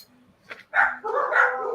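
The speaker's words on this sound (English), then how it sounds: "the puppies are all excited in Zach's house today" Several excited puppies in a house bark and yip close by in quick overlapping bursts, a short yelp first, then a louder sustained run of barking.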